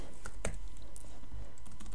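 Steady, busy typing of code on a computer keyboard, close and clear, with rapid irregular key clicks filling the whole stretch and no talk over it.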